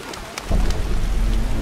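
Heavy rain pours in The Witcher, a dense, steady hiss that swells suddenly into a louder downpour with a deep underlying rumble.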